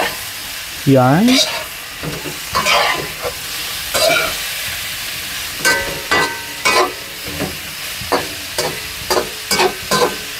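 Food sautéed and stirred in a pan, a steady sizzle broken by repeated scraping stirs, with a voice speaking briefly over it at close range.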